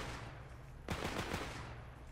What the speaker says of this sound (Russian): А это кто стрелял?